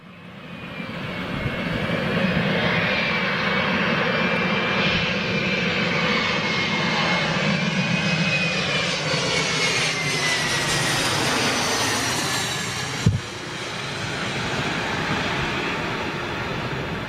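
A jet aircraft roars loudly and continuously at London City Airport, a broad steady engine rush with a rising whine that swells and holds for many seconds, heard alone.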